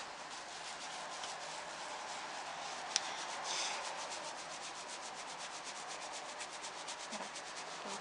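Hands rub and massage the head during a Japanese relaxation massage, pulling and finger-combing through the hair in a steady, close, continuous rustling and brushing texture with no talking.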